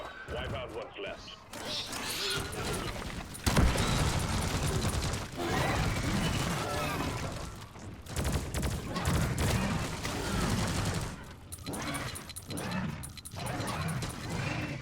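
Gunfire against a swarm in Deep Rock Galactic, dense overlapping rapid shots and crashes in continuous bursts with brief lulls, with creature noises and game chatter mixed in.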